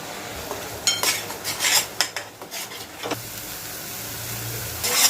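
Masala paste sautéed in oil in a pan for a sandge gravy bhaji, with a spoon scraping and clinking against the pan in bursts over a soft continuous sizzle.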